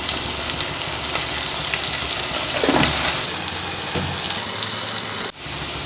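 Constant loud sizzle of a sardine curry base sautéing in a pan with salt added, Kerala style, a steady frying hiss with occasional stirring scrapes and a brief knock near the end.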